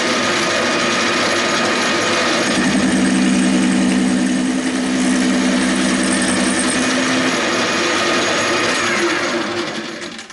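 Small machine straining while cutting a thread on a bolt held in a vise, a loud continuous whining motor drone with a steady hum that rises in pitch midway.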